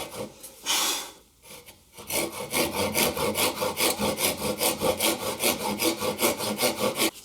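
A hand saw rasps through wood cutting a dovetail, quick even back-and-forth strokes after a brief scrape and pause, close and steady throughout.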